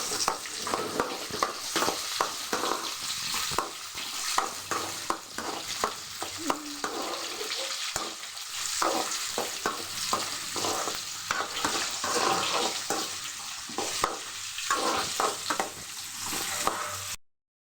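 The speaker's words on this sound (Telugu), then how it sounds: "కోసి పెట్టిన ఉల్లిపాయలు అన్నీ వేసుకుంటాము" Chopped onions sizzling in a pan, with the continuous hiss of frying broken by repeated scraping and stirring clicks at an irregular rhythm, fairly close and with no talking.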